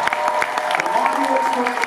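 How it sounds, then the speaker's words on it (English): An audience at a New York Comic Con cosplay championship claps in a brief burst of applause, with a voice talking over the clapping. "give a big round of applause"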